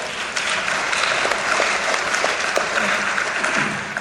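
A crowd at a legislative talk on food assistance applauds steadily, dense and fairly loud, with voices faintly underneath.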